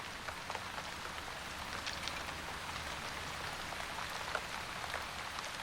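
Steady rain falls across a surface, a dense, even hiss scattered with faint individual drop ticks, continuous and unchanging.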